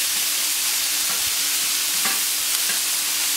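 Chicken and pineapple skewers cooking gently on a plancha give a steady broadband sizzle and hiss, with a few soft crackles and pops over a constant frying noise, close by and with no talk.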